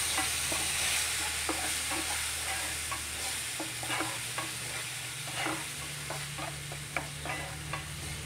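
Tomato puree goes into frying spices for a rajma curry and gets stirred, giving a soft continuous sizzle with regular light scrapes of a spoon against the pan.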